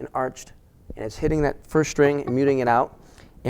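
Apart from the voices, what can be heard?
No everyday noise stands out behind the speech.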